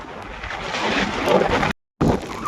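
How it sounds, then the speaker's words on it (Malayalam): Steady broadband rush of rain at a hilltop viewpoint in Thiruvananthapuram, with mist and wind buffeting the microphone, loud and continuous apart from a brief dropout near the end. "മഴ മഴയുണ്ട് രക്ഷയില്ല"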